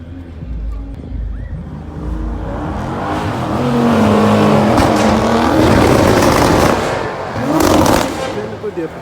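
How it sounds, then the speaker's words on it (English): A modded Dodge Challenger R/T drag racing an all-wheel-drive Nissan GT-R, with loud engines revving and roaring as the cars launch and accelerate, under crowd noise and talk. "we got a Challenger RT, souped up, modded, going against the all-wheel drive GTR again"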